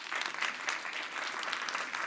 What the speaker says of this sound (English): welcome all of them with a big round of applause